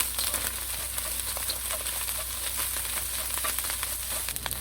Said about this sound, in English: Then add cold or cooked rice and stir it in about 3 minutes